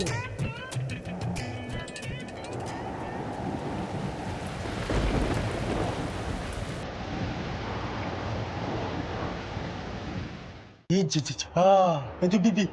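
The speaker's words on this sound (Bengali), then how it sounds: "বৃষ্টি নেমে গেল।" Rain begins to fall with rumbling thunder, a steady loud wash of rainfall under a low rolling roll, ending abruptly as people talk briefly at the close.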